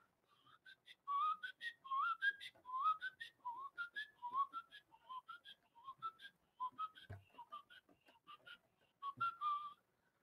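A person whistles a melody alone in a masterclass setting, a bit under tempo and loosely on pitch, with bright sliding phrases running steadily and close to the ear.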